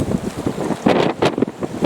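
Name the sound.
strong wind blowing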